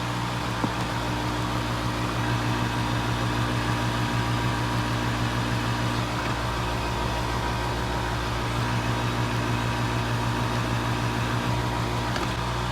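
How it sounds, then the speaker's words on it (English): Hot air rework station blowing steadily while heating an NVMe SSD to solder it onto a Touch Bar MacBook Pro logic board: a constant, even airflow hiss with a low hum underneath, unchanging throughout. "now we'll turn on the hot air and just heat it to solder it onto the board"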